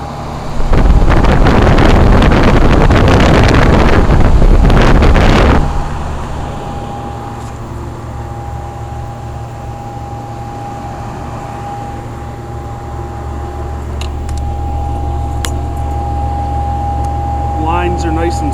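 An early 1980s York heat pump runs in cool mode outdoors, a steady low hum with a constant whining tone; a loud burst of broadband rushing noise fills the first five seconds before the unit continues alone.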